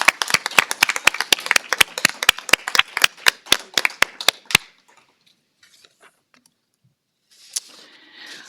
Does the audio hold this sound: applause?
yes